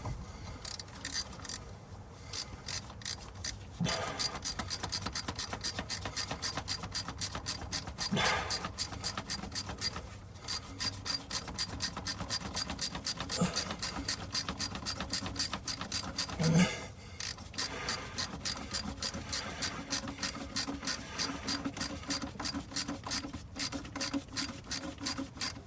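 Ratchet clicking steadily while tightening a bolt on a Detroit 60 Series ECM in a Freightliner Classic XL truck, with long runs of rapid, close pawl clicks broken by brief pauses across the whole stretch.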